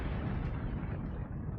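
Autocannon fire from a mech in Mechwarrior 5: Mercenaries, a heavy, continuous booming roar with dense low-end rumble that stays loud and close across the whole burst.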